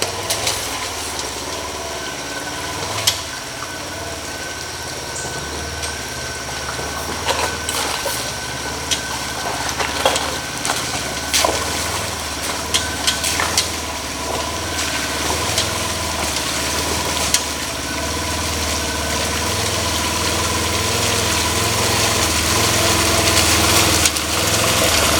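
A Polaris UTV engine drones steadily while driving over rough ground, with rattles and knocks from the terrain, the engine load rising toward the end as it climbs a steep hill.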